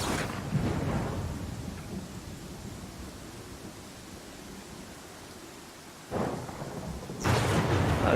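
Thunder from a lightning spell in the video game Pathfinder: Kingmaker, a deep rolling rumble under steady rain-like noise, with sharp loud crashes breaking in near the end.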